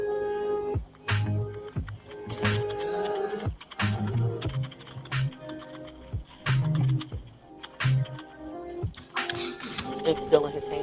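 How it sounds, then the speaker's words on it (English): Someone types on a computer keyboard at a dispatch desk during a call about a man with a rifle, giving bursts of quick clicking keystrokes with pauses between them while voices talk over it. "what she's doing right now is typing the stuff for the police officer to come on the scene"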